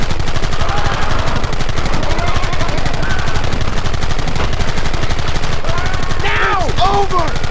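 Gunfire in the video game Red Dead Redemption: dense, rapid shots crackle nonstop at high volume, with shouting voices rising over the battle near the end.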